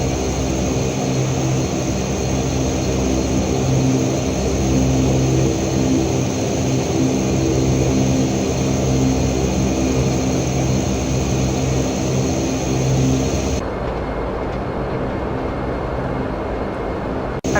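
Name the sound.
Dash 8 Q400 taxiing to gate, from video game FSX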